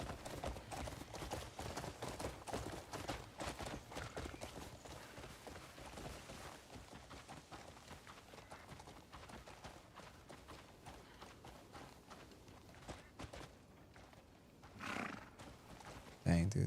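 Horse galloping in Crimson Desert, a fast drumming hoofbeat run under game music, with a whinny near the end and a voice talking over it.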